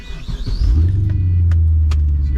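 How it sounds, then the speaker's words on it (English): A Pontiac GTO with a new differential mount pulls away, its engine rising into a loud, steady low rumble close by, with a few light clicks and knocks above it. "I'd like to drive the car to see what the diff mount did for it."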